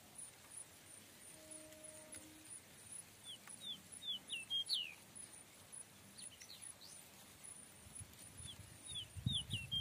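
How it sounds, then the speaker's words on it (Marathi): Small sparrow-like bird singing in an evening rural setting, repeated thin high chirps and short trills scattered through the clip, moderately clear above soft background noise, with a brief low rustle at the end. "तिथं बसलाय पक्षी बघा, एकदम छोटा चिमणी सारखा."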